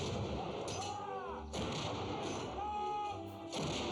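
Artillery guns firing a ceremonial salute for Queen Elizabeth II fire loud, booming blasts at intervals of about a second or two, each with a sharp crack and a rumbling tail, against faint background sound.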